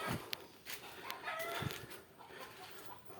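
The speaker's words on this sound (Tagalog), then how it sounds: "ah manok pala to" A chicken clucks and calls several times at close range, with sharp bursts scattered over quiet outdoor background noise.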